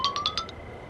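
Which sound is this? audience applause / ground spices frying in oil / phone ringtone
phone ringtone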